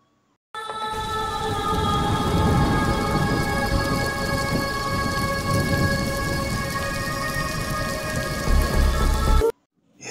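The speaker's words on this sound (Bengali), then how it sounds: "এমন সময় ঝমঝম করে বৃষ্টি নামে।" Heavy rain pours down as a sound effect in a Bengali horror story, a dense, loud, steady roar with a faint tonal hum underneath that starts abruptly and cuts off after about nine seconds.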